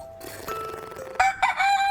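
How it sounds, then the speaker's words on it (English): A rooster crows a loud, clear cock-a-doodle-doo of rising and falling calls up close, followed by a couple of sharper bursts at the end, with no talk. "when you hear the rooster say, cock-a-doodle-doo"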